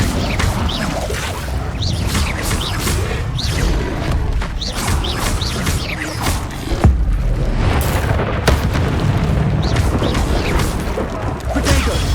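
Incendio fire spells go off again and again in Hogwarts Legacy combat, each cast a sharp whooshing burst. They fall among crashing impacts and booms in a loud, busy fight with scattered voices.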